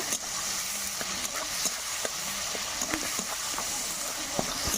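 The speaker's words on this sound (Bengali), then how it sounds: "আর একটু নাড়িয়ে নেব" Soybean and chana dal being stirred in a hot pan with salt and turmeric, a steady sizzle of frying with scattered clinks and scrapes of the spoon against the pan throughout, no talking.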